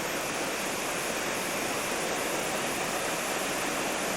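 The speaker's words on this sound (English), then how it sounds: "Liberty Falls pouring into the pool" Liberty Falls in New Hampshire pours into a pool, making a steady, dense rush of falling water that stays loud and unbroken throughout, with no voices over it.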